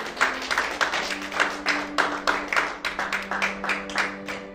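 A church congregation at a Sunday service claps in a steady, rhythmic pattern, with many hands beating together and a sustained hum of voices or music underneath.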